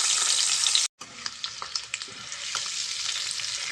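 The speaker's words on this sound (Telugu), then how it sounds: "మనం ఎగ్స్ని ఫ్రై చేసుకున్నాం" Eggs frying in hot oil with turmeric give a steady bright sizzle with scattered pops and crackles, broken by a brief silent gap near the start before the frying resumes, close and fairly loud.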